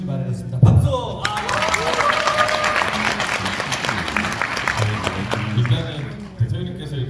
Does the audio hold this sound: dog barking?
no